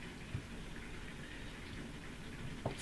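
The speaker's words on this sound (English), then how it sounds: "It's pitter-pattering on my window pane." Rain pattering steadily on a window pane, a continuous soft hiss of drops with a couple of louder taps, heard from indoors with no voices.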